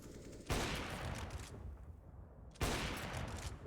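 Pistol gunfire in the Counter-Strike video game, bursts of sharp rapid shots in two loud clusters separated by a quieter gap, close and punchy with no talk.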